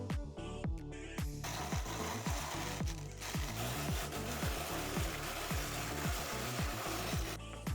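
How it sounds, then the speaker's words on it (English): A small grinder crushes pecans with a rapid, gritty, rasping rattle that runs continuously and close-up, its pitch wobbling slightly, before the grinding cuts off near the end. "We need to crush up some pecans for this recipe. I am using this grinder."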